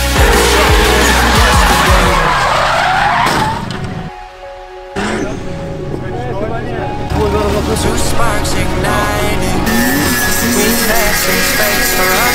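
A drift car's engine roars and its tires squeal and skid through a run at a drift competition at Motopark Toruń, loud and close, briefly dipping before the engine and skidding return.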